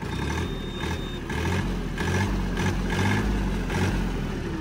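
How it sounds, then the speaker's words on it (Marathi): A Mahindra OJA tractor engine running close by, its rumble swelling and easing in repeated rev pulses with a steady mechanical drone and no talk. "आणि तुम्हाला ट्रॅक्टर मी रेस पण करून दाखवतो."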